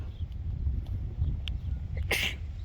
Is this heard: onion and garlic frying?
no